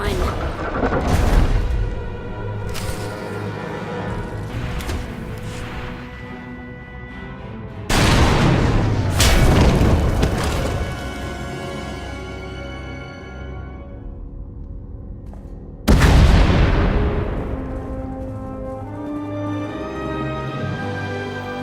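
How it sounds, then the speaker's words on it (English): Heavy booming blasts and a rumbling collapse from a tunnel in the Star Wars: The Old Republic video game, three loud impacts each followed by long decaying rumble, mixed with game music. "We heard explosions. The tunnel collapsed."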